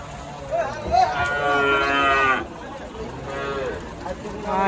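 A cow at a livestock market lows in two drawn-out moos, the first long and loud, the second softer, over a background murmur of the market.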